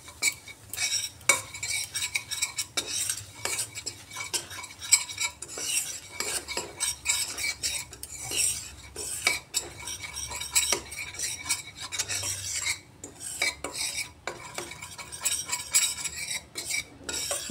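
Spices and besan with Kashmiri red chilli being stirred and dry-roasted in a pan for a tandoori masala, with steady scraping strokes and clinks of a utensil against the metal, close and continuous with no talk.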